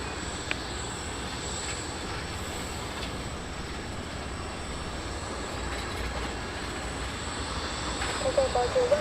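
A FedEx Boeing 777F cargo jet takes off at Taiwan Taoyuan International Airport, a steady, broad engine roar heard from a distance that swells slightly toward the end, with faint radio voices underneath.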